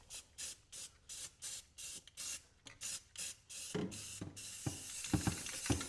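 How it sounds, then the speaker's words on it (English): Aerosol spray can of flat black paint, old stock, hissing in a rapid series of short even bursts, then longer sprays mixed with clattering handling noises, close and fairly loud. "We're going with flat black because that glossy can of 10-year-old paint or longer, probably more like 15-year-old paint, don't work so well."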